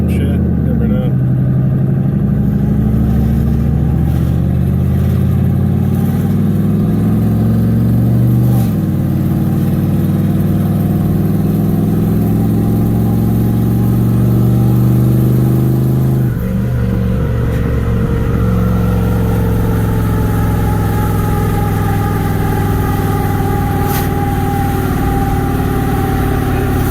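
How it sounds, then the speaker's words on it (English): Truck engine revved hard at full throttle while testing a 10-bolt rear end, a loud sustained roar with pitch climbing and dropping over several pulls, close to the microphone, with someone speaking over it. "I think I might give her the beans one time just to see, you know, give it everything."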